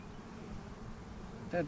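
Honey bees buzz around a hive cell during a nuc-making and queen-notching inspection, a faint, steady low hum with a brief louder sound at the very end.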